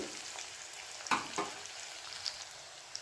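Whole cumin seeds and chopped onion frying in hot oil, a soft steady sizzle with a couple of sharper spits and scrapes near the middle, close and fairly quiet.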